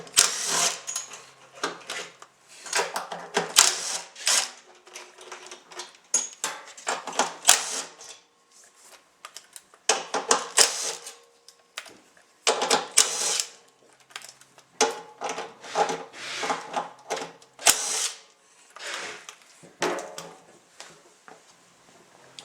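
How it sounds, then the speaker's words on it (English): Motors being unbolted from a tipped Diamond Jet 1200 dust containment machine: bursts of ratcheting and metallic clicking from a hand tool, repeated in clusters with short quiet gaps, close and fairly loud, no talk. "Now we can tip the machine on its side and unbolt the motors."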